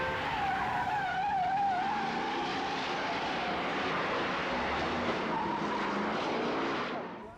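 Car tyres skid and squeal during a film chase scene from The French Connection (1971), a loud continuous screech with engine roar and traffic-like rumble filling the whole stretch before cutting off abruptly at the end.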